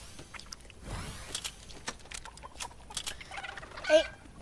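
Chicken clucking in the Fortnite video game, a few short bird calls scattered through busy game sounds, with a sharper call near the end.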